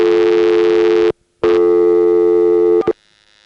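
A loud telephone busy tone on an old senderized step-by-step exchange in Washingtonville, New York, pulses in two long bursts separated by a short silence, then drops to a faint, thin tone.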